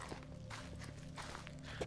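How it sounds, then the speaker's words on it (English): Soft footsteps of about ten people walk together across a deserted wasteland in the video game Girls' Frontline 2, a faint, steady shuffle of overlapping steps with no talking. "It is the sound of footsteps, or to be precise, the sound of 10 odd people walking together through this deserted wasteland"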